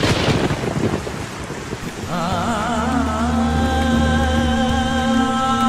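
Heavy rain pours for a couple of seconds, then sustained melodic tones swell in and continue over the steady downpour.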